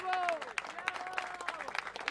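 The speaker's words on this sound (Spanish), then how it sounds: "José Olivia, por favor, fuerte aplauso." An outdoor crowd applauds prize winners at a sailing regatta for traditional dornas boats, a moderate, scattered clapping heard under an announcer's voice.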